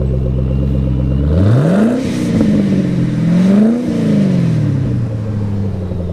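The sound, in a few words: car engine revving at a Chevrolet car show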